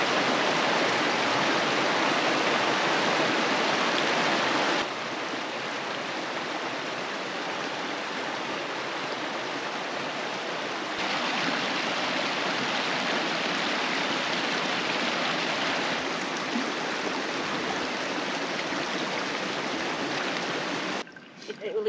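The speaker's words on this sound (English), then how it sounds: "it's time for one of the most important camp chores, filtering water" Water trickles and splashes steadily while being filtered through a squeeze filter at a backcountry camp in Idaho's Sawtooth Range. The broad rushing sound is close, shifts in strength a few times, and stops abruptly near the end.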